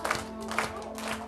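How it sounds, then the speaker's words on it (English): Audience clapping along at a live-streamed community performance, steady rhythmic claps repeating roughly every half second over a sustained musical tone. "I'm going to need your clapping hands for this one"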